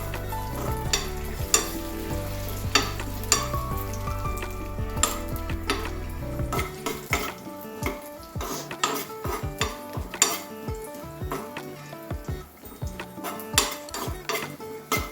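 Cashews and raisins sizzle steadily in a pan for vermicelli jaggery payasam, with a spoon scraping and clinking against the pan throughout, loud and close with no talk.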